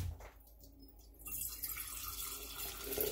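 Jars are rinsed under a running kitchen tap, a faint splash at first, then a louder steady rush of water filling and spilling from the glass for the second half.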